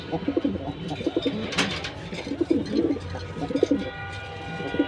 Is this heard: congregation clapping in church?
no